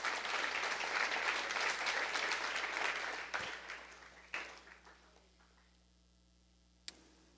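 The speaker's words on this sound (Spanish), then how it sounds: "Un aplauso para Dana" A church congregation gives a round of applause during a sermon, a soft, distant wash of clapping that fades out over a few seconds, leaving near silence with a couple of isolated knocks.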